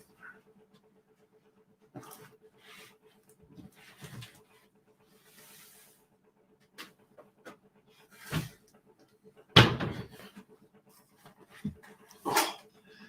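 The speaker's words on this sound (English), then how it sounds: "Watch out, Maddie dog" A dog moves about a room, making scattered brief sounds and soft panting or whimpers between long quiet gaps, with a few louder bumps near the end.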